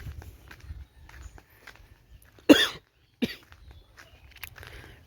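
A single dry cough stands out clearly near the middle, followed by a smaller second cough, against faint low rumble and quiet movement noises.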